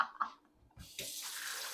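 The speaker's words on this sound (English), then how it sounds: "rinse your measuring cup with steaming hot water before you put anything sticky like peanut butter" Hot tap water runs steaming from a kitchen faucet into a sink to rinse a measuring cup, starting after a few faint clinks and settling into a steady, close splashing rush.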